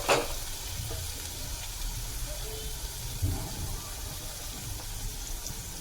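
Onion and tomato fry in a pan with spices going in, giving a steady low sizzle and bubbling close by, with faint stirring and a brief clink near the start.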